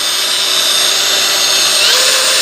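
An Ingco cordless brushless angle grinder runs at its middle speed setting, giving a steady, loud, high motor whine close by with no break.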